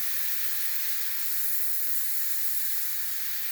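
Airbrush spraying blue paint onto a T-shirt, a soft continuous airy hiss held steady and close for a few seconds with a faint low compressor hum underneath, and no talk.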